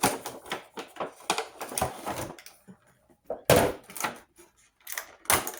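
Plastic and cardboard packaging of a McFarlane Toys DC Multiverse Azrael in Batman Armor action figure being pried and torn open, with a series of sharp clicking, crinkling bursts, a brief pause, then a few more close, crisp snaps.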